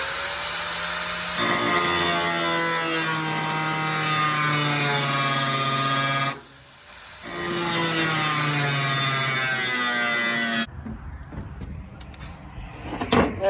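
A power tool cuts straight down through a weld on a bolt on a Ford F100, giving a loud, steady high-pitched whine that runs for several seconds, briefly drops off, resumes, then cuts out into clanks and shop noise.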